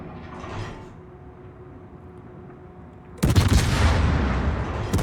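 Warship guns fire in a naval video game: a low mechanical whir and clank, then a loud, sharp broadside blast that rolls into a sustained booming rumble.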